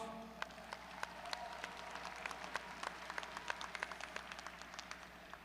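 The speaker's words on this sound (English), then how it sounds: "let's take this moment to applaud those who have helped you reach this point in your life" A graduation ceremony audience for the class of 2017 applauds those who helped the graduates, a steady patter of many hands clapping in a large hall, quiet and distant throughout.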